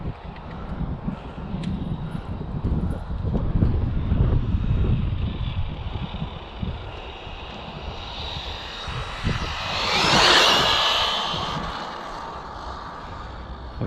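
Radio-controlled airplane making a flying pass, its engine droning steadily at a distance and then swelling into a brief louder whine as it sweeps past, with wind buffeting the microphone throughout.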